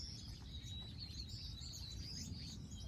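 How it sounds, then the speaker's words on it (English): Birds sing and tweet in a garden on a quiet day after rain, with steady chirping calls at moderate distance over a low background rumble. "I hear the birds slowly singing and tweeting away"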